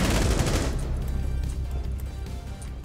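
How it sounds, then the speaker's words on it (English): Rainbow Six Siege gunfire: a loud, rapid burst of shots up close that quickly thins into scattered fainter shots and echoing decay. "I'm just going to shoot and then kind of dip out."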